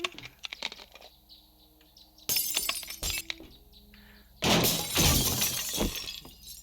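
Glass shatters inside a house in the zombie survival game 7 Days To Die, two loud bursts of breaking panes with scattered tinkling shards between them, alone without talk.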